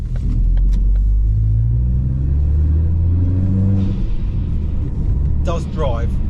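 A Ford Focus ST mk3 driving along a twisty B road, its engine a loud, close cabin rumble that rises and falls as it accelerates through the bends, with a voice talking over it.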